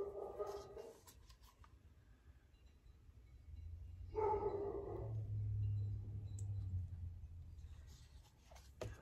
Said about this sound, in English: Amazon delivery, I think, is why the dogs are going crazy.